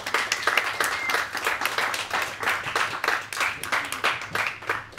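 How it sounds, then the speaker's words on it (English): A small audience applauds panelists at a press conference, with continuous mid-sized clapping at a steady level from start to finish. "Let's give the panelists a big round of applause."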